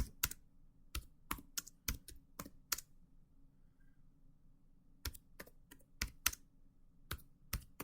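Keys clack on a computer keyboard in two quick bursts of typing separated by a pause of a few seconds, close and fairly quiet over a soft low hum, with no voices.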